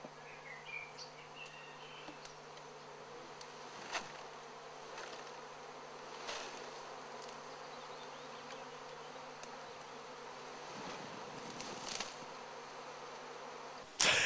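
Solitary bees buzzing steadily at close range around a nest, a continuous drone with occasional louder passes, faint bird chirps in the background.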